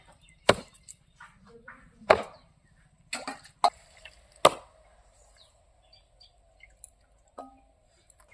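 A knife chops chicken leg pieces on a board with a few loud, sharp, widely spaced whacks and a couple of softer knocks in between. The strikes are close and there is no speech.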